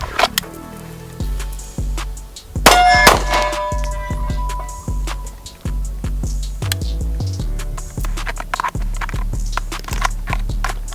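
A handgun is drawn from an everyday-carry holster and fired rapidly outdoors, producing a string of sharp, loud cracks at irregular intervals mixed with fainter clicks and handling noises.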